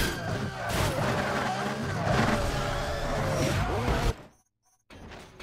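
A Lamborghini Reventon racing in Need for Speed Nitro on the Wii, a steady loud engine roar with rising and falling revs and tire noise, cutting out abruptly near the end before resuming.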